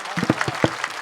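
Scattered hand claps from a kirtan audience sound as a short, thin burst of applause, with a voice mixed in.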